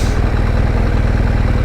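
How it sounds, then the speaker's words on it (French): A tractor engine idles steadily as the machine maneuvers, a close, continuous low throbbing pulse with no voices over it. "Les tracteurs aussi, on va laisser manœuvrer."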